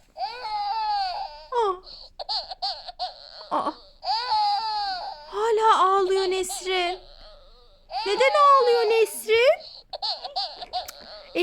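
A Cicciobello toy baby doll gives electronic crying and wailing sounds after pretend injection play, in repeated bursts with short gaps, close and clear, with a few quiet sounds from a person in between.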